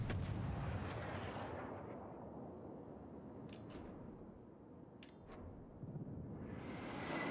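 Warship main-battery artillery in the naval combat game World of Warships, a heavy, booming rumble of gunfire that rolls on steadily for several seconds, with a couple of faint high ticks over it.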